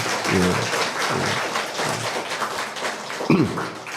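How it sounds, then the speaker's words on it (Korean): A church congregation at an afternoon worship service claps in thanks for a pastor. The applause is broad and sustained, with a few brief voiced sounds breaking through near the start and the end. "우리 박수로 감사 인사를 드리도록 하겠습니다"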